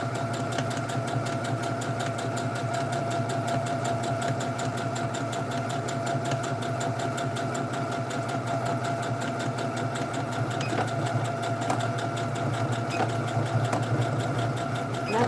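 A pedal-driven sewing machine stitching a bandana bag, a fast steady mechanical whirring hum with rapid needle chatter running throughout at even loudness, close by and without talk.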